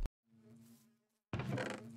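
Bees in a Minecraft bee farm built in the Nether give a short buzzing drone, steady and moderate, followed by a louder burst of broadband game noise.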